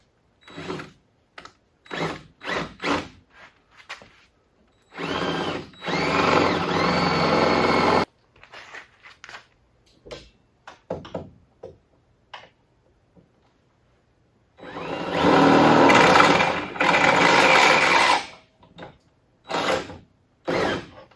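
A power drill bores a larger hole through a fishing boat's hull to mount a boarding ladder, running in two long loud whirring bursts with short clicks and handling noises between them; no one talks.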